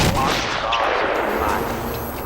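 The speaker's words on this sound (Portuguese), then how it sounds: "mas quem tá atirando em mim?" Rapid gunfire bursts in the Batman: Arkham Asylum video game, loud and close, rattling continuously through the moment with faint game noise around it.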